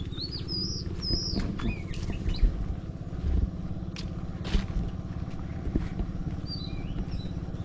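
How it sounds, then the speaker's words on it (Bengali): Birds call in village fields on a late afternoon, scattered chirps and short whistled notes, some near and some distant, over a low steady background rumble and occasional rustling. "সেই সাথে পাখি সুন্দর ডাকাডাকি করছে এখানে"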